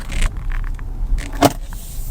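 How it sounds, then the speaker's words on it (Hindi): A car rolls in through an opened gate at a beach stay in Agonda, Goa, with a close engine hum and a few brief clunks and rattles, one sharper knock standing out midway. "ये खुल गया गेट, और ये हमारी गाड़ी गई"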